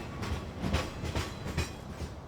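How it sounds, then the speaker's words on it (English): A train departs in the video game Farming Simulator 15, with wheels clacking rhythmically over rail joints in a steady, moderately loud beat and no voices. "So basically, what I do here is send off train."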